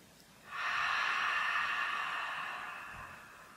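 A long, deep exhale during a seated chair yoga session, starting after a brief pause and flowing steadily for about three seconds as a soft, airy breath that slowly fades, with no talking.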